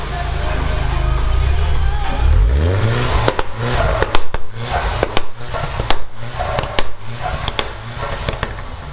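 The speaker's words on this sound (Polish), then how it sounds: "Teraz zobaczcie, jak pięknie brzmią, znaczy jak pięknie brzmi właśnie ten układ wydechowy tego dwulitrowego" A Volkswagen Scirocco R with a two-litre turbo engine revs up sharply through its exhaust system, then settles into a run of loud crackles and pops, close by.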